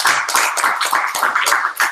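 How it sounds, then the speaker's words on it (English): A small room of people at an entrepreneurs' social gathering clap for a speaker, fairly close and moderately loud, with individual claps audible in a quick, slightly uneven rhythm. "I want to give a round of applause for Sam"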